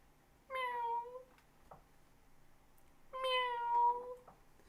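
A cat meows twice, long drawn-out cries separated by a short quiet pause, close and clear.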